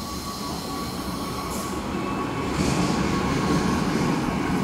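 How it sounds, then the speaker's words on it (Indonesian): Bima passenger train, Jakarta to Surabaya, hauled by locomotive 206-1323 through a busy Jakarta station: a continuous loud rumble of rolling wagons with a high wheel squeal, growing heavier toward the end. "Kereta api Bima, Jakarta Surabaya, lokomotifnya"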